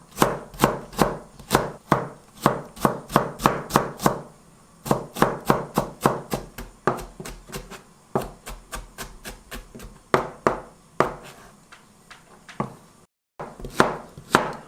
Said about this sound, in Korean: 당근도 똑같은 방법으로 썰면 됩니다. 이렇게 채를 썰어서